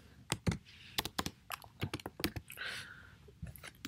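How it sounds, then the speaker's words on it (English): Fingers tap out quick, uneven bursts of clicks on a nearby computer keyboard, crisp and fairly quiet, with brief pauses between keystrokes and no speech. "I can type that in there."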